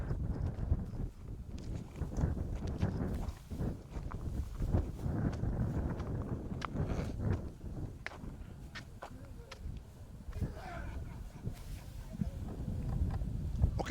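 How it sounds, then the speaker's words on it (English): Heavy gusty wind on a foggy hill in Dominica, rumbling and buffeting a microphone in uneven surges, with occasional footsteps and a voice in the background. "It's a lot of wind, a lot of heavy gust wind."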